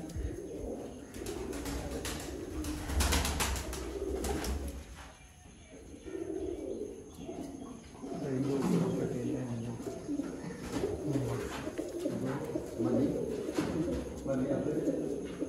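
Pigeons coo repeatedly in soft rolling bursts at a pigeon loft in Sialkot, the low throaty calls overlapping at moderate distance while someone talks intermittently.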